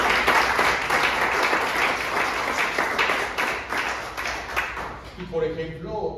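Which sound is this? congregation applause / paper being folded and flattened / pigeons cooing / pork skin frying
congregation applause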